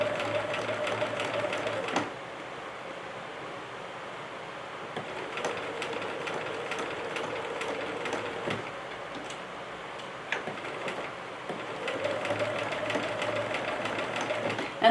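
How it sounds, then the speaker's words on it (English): A sewing machine stitches fabric in several runs with white thread, its fast rhythmic needle clatter starting and stopping between quieter pauses, steady and close. "now I'm going to start sewing onto the dark blue."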